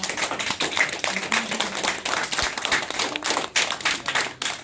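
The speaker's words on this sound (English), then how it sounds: "we can give our parents a round of applause and our teachers" A crowd claps for parents and teachers at the close of a student simulated congressional hearing, with dense, steady clapping that rises and falls in bursts and a few louder individual claps near the front.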